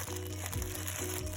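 A plastic bag being handled during a paper craft gift project: soft, faint crinkling rustles over a steady low hum.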